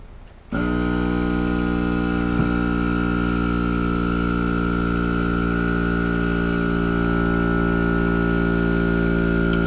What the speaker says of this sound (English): I know the compressor runs because I tested it.